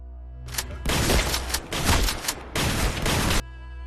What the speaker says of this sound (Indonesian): Namun tiba-tiba Rishi mengambil senjata dan memerondong Nawab dengan peluru hingga tewas